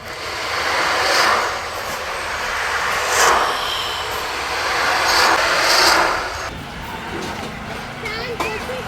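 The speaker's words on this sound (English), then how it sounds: "This is a ocean sound. In this you can rotate clock or anti-clockwise." An ocean-sound instrument in the Svaram sound garden in Auroville, rotated by hand, gives a steady washing hiss that rises and falls in slow surges like waves, while people talk nearby.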